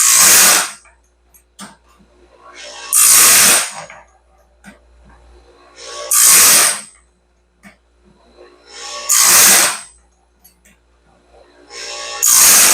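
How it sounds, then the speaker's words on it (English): Bench grinder sharpening a Norwood Stellicut bandsaw band, grinding out each tooth gullet: five loud, bright grinding bursts about three seconds apart, with quiet gaps holding faint clicks and a low hum between passes. "it's grinding out the entire gullet too"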